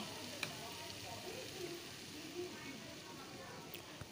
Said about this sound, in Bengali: এখন বেশ একটু টমেটোটা ভাজা ভাজা হয়ে গেছে অনেকটাই।